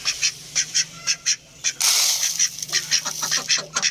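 Desi chickens cluck in quick, repeated calls close by while being given grain and water, with a brief rush of noise partway through before the clucking continues.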